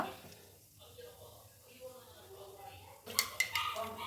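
Mustard and cumin seeds splutter and pop in hot oil in a pan while cooking togari kalu saaru, a crackling burst of sharp pops that starts after a stretch of quiet speech and continues as the voice talks.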